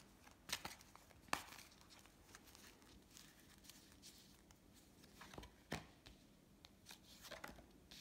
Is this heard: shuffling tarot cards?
yes